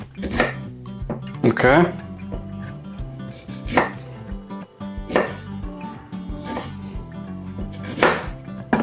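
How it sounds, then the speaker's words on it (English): Ginger root being chopped into small pieces with a knife on a board: several sharp, irregular chops spaced a second or so apart, close by, with a brief spoken word. "So cut your ginger into smaller pieces"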